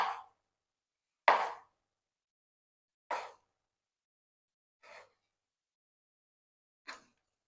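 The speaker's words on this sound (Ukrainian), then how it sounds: "І тепер нарізаю картоплю кільцями товщиною приблизно пів сантиметра" Five separate crisp chopping cuts of a knife slicing potatoes into half-centimetre rings on a board, spaced unevenly about a second or two apart in an otherwise quiet room.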